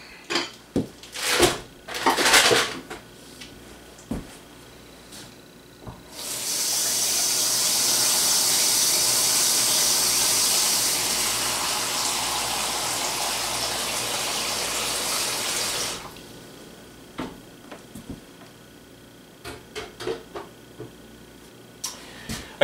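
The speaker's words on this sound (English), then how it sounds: "I covered the meat with water," Water pours steadily into a crock pot over jackrabbit meat for about ten seconds, a loud, even gush framed before and after by clattering handling sounds.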